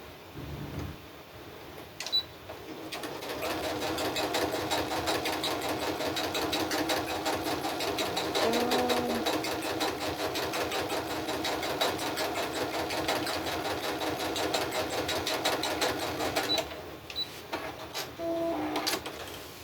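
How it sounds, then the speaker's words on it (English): Sewing machine running steadily for a long stretch while piecing crazy crumb quilt fabric, a close, even mechanical hum with fine rapid stitching ticks, brief handling noises at the start and end. "I'm sewing to my line, or trying to sew to my line."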